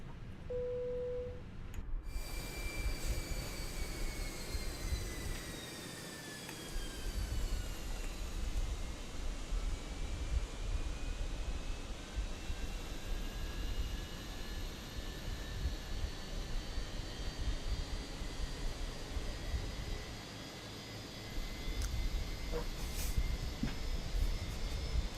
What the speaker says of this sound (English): Start engine number 2.